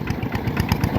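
A small walking tractor engine chugs steadily and close by, its single-cylinder putter pulsing in a fast, even rhythm with no talk over it.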